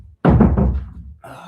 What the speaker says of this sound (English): I'm just gonna close that door